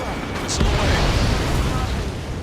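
A missile launches from a fighter jet in Ace Combat 7, a loud rushing roar amid heavy combat noise and explosions, with voices talking over it.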